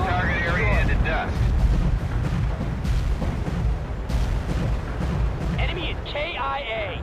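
A heavy artillery barrage in the World in Conflict video game: deep, continuous rumbling blasts roll on without pause, and a voice speaks over them in places.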